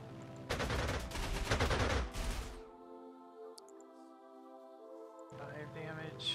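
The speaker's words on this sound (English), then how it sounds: "Shoot the artillery." Artillery fire in the Panzer Corps 2 strategy game: a loud burst of rapid booming shots over about two seconds, followed by a quieter sustained tonal game soundtrack with a brief chime and a swell near the end.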